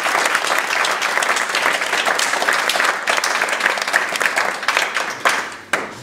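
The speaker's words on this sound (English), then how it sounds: "So, you two, I think a round of applause is in order." Wedding guests applaud at a reception during the speeches, a dense sustained round of clapping that fills the room, steady and loud before thinning out at the end.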